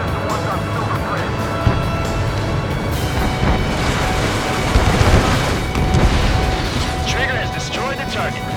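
An artillery volley fires and lands in the Ace Combat 7 flight game, a sustained heavy rumble of booms and crashes that stays dense and loud throughout, with people talking over it.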